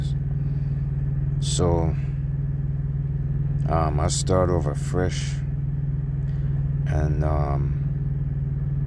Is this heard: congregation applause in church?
no